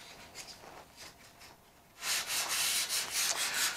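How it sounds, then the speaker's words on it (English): 500 grit sandpaper lightly rubbed over clear dope on silk covering, faint back-and-forth strokes at first, then a louder, steady run of rhythmic close sanding strokes. "I have a piece of 500 grit sandpaper, and I'm just barely, lightly going over all the areas that I put on the clear dope"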